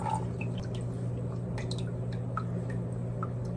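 Scattered drained water drips from a plant pot, falling irregularly, small and close, over a steady low background hum.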